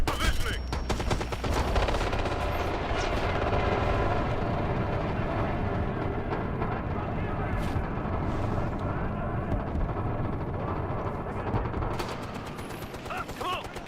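Light machine gun fire rattles in a Ghost Recon battle, sustained dense bursts under other game noise and shouted voices throughout.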